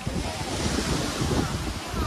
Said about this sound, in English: the wind is so good here because of the ocean